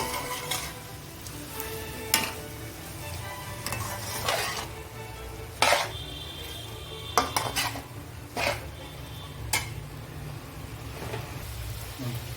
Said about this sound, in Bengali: এটাকে একটুখানি ভাজা ভাজা করে নেব।